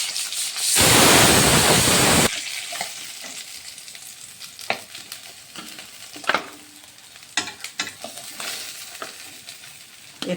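Koi fish frying in oil for a Bengali tel koi curry burst into a loud, close sizzle for about a second and a half, then settle into quieter crackling with scattered spatula scrapes and taps.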